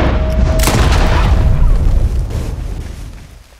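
A single heavy gunshot from the video game Red Dead Redemption 2 cracks out loudly, then rolls off into a long booming echo that fades over a few seconds, with no talk over it.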